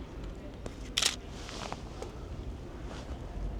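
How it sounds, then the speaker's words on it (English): A Nikon D200 DSLR fires a single sharp mechanical shutter click outdoors on a street, close and crisp over faint wind and background hiss, with a couple of softer handling clicks around it. "it's quite difficult for me to shoot a DSLR on the streets, simply because of the loud shutter sound"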